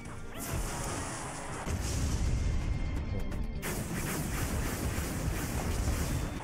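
Firecracker shot exploding in the mobile strategy game Clash Royale, a loud crash-like blast followed by sustained crackling battle noise and game effects, with no talk.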